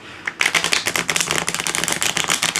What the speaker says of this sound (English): So I'm shuffling with reversals.